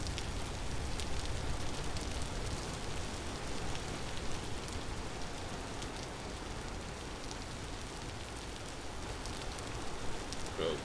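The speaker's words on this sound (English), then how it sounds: "We got some rain coming down." Steady rain in the Vintage Story video game pours down in a dense, even hiss, a constant wash of droplets with no pauses, fairly loud and close throughout.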